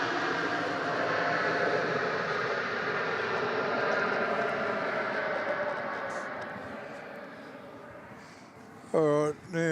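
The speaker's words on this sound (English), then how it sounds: "Seem to have a bit of a train coming in, actually." A train passing near Melbourne Airport makes a broad, steady rumble that builds, holds, then slowly fades over several seconds. A voice cuts in briefly at the end.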